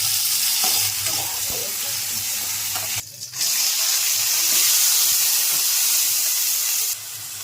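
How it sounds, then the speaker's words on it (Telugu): Onions fry with tomatoes added in a pan while a village cook makes nalleru chutney. The sizzle is loud and continuous, with steady stirring and scraping throughout and a brief dip near the middle. "ఎర్రగడ్డ ఒక మాదిరి వేగాయి కాబట్టి దీంట్లో టమాటాలు కూడా వేసి"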